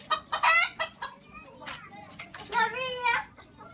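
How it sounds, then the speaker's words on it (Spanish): A hen clucks nearby in a henyard while children search for eggs, short clucks interleaved with excited young voices and adult speech. "Cuidado, Gonzalo, que hay una gallina al lado tuya"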